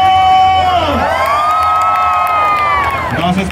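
A festival crowd in San Andrés Tuxtla lets out one loud, sustained proud shout, rising and holding for a few seconds before fading, close and dense with whoops among the voices.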